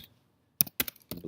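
A few crisp, close keystrokes tap on a computer keyboard after a brief near-silence, landing in an uneven cluster of sharp clicks with no voice.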